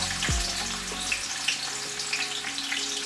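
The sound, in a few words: onions frying in oil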